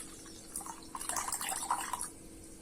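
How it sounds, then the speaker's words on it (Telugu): Buttermilk poured into chilli rasam for a quick homemade dish, a soft close liquid splashing and trickling for about a second before fading out. "ఇప్పుడు మజ్జిగని పోసుకోండి."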